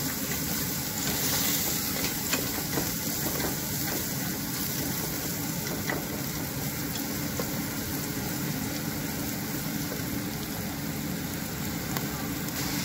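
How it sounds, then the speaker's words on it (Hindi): Homemade masala and turmeric roasting in oil, a dense, constant sizzle with faint stirring scrapes, close and fairly loud, no talking. "इसको अच्छी तरह से अब ब्राउन कर लेंगे और तो हल्दी को अच्छी तरह से हम भून लेंगे"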